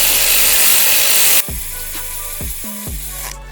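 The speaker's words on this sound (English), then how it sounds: "I'll use an electric ratchet" An electric ratchet tightens a bolt on a BMW E36 alternator in a garage, giving a loud buzzing whir that cuts off abruptly, followed by a few short mechanical bursts and clicks.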